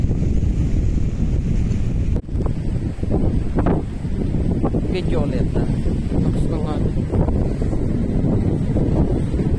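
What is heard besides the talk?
rough sea, big waves and wind at shore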